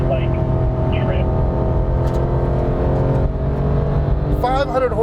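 Porsche 911 GT3 with a 4-liter naturally aspirated engine, a steady loud drone holding near-constant pitch throughout, with a brief rising whine near the end.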